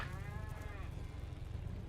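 Cattle in the survival video game Scrap Mechanic give a short, steady moo that sits in a dense wash of constant game background noise.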